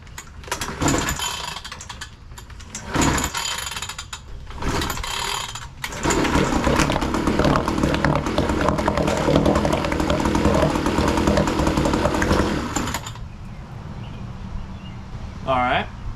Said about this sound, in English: First ever start attempt on Amazon's cheapest outboard.